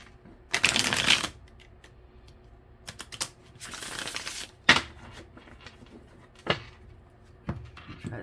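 Tarot cards are shuffled in several quick riffling bursts, close and crisp, with pauses and light tapping between them.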